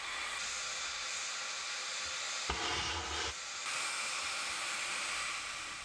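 Geothermal steam jetting from the ground at a power plant site, a continuous broad roaring hiss like a boiling kettle, loud and steady with a brief surge partway through.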